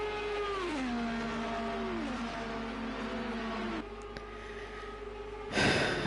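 Engine note of an IndyCar race car in a sim racing Indy 250 event, a sustained whine whose pitch dips and settles as the car leaves the pits, ending in a sudden burst of broadband noise.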